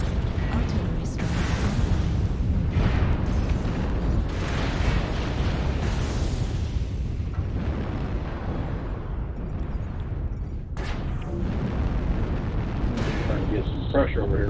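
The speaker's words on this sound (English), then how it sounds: "Artillery strike" An artillery strike in the MechWarrior Online game rumbles through a dense, continuous barrage of heavy booms and blasts, loud and sustained, while a voice talks over the battle noise.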